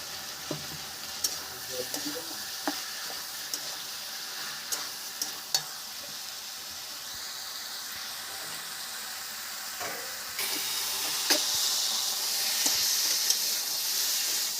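Vegetables and bori frying in oil in a pan: a steady sizzle and hiss with occasional scraping stirs and clinks, the frying growing louder and brighter toward the end.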